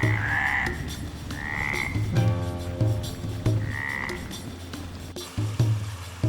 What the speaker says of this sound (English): Sahara frogs calls from a pond.